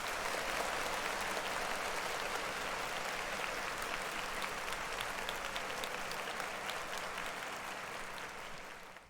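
Steady crowd applause for a rapper, a dense, unbroken field of clapping hands that holds level before thinning out in the final moments.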